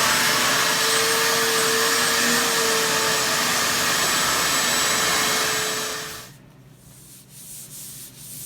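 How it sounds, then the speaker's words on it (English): A steady, loud vacuum cleaner roars close by with a droning hum while vacuuming oak kitchen cabinets, then cuts off, leaving faint scraping and clatter. "So right now we're going to vacuum all of them"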